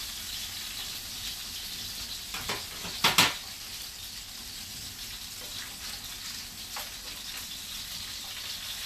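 Thick salmon fillets, about two inches thick, sizzle steadily in a pan, a soft continuous crackle with a few louder spits and clinks near the middle.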